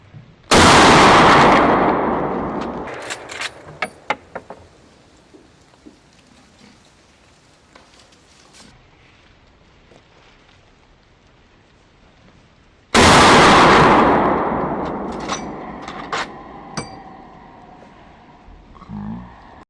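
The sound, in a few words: gunshots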